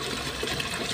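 Drinking water gushes steadily from a leaking pipe near the Suazo bridge in San Fernando, a continuous loud rushing hiss with no gaps.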